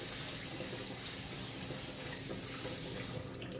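Tap water runs hard into a sink as grease is rinsed off cooked meat for canned beanless chili, a loud steady gushing splash that continues without a break.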